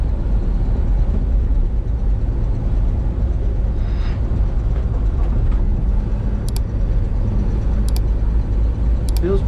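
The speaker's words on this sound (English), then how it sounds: "This motor is like a tank, it runs very smooth." A 1950 Chevrolet 3600 pickup truck's engine drones steadily and loudly while driving, a dense continuous rumble with road noise and a few faint high ticks near the end.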